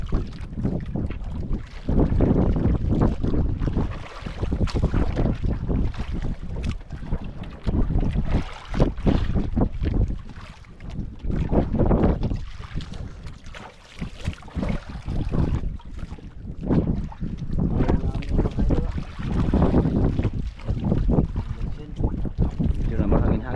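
Strong wind roars and buffets continuously over open sea from aboard a small boat, loud and gusty throughout with water noise underneath.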